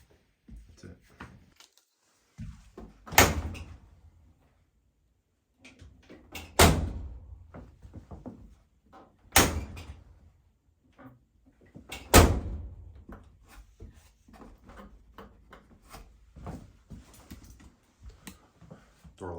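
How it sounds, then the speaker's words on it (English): A Whirlpool dryer door with a new latch closes several times, each a solid thump-and-click a few seconds apart, loud and close, with softer handling clatter between. "Door latch is really snug now"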